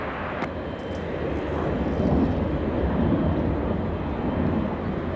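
A jet airliner roars down runway 24 Left at LAX on its takeoff roll, a loud, steady broadband rumble that swells slightly and holds without voices.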